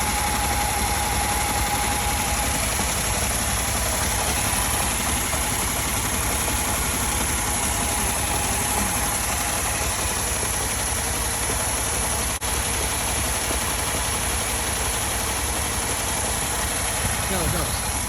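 A Hummer H1 stuck during a recovery idles steadily with its exhaust submerged in water, giving a constant, dense, bubbling engine drone that runs the whole time without a break.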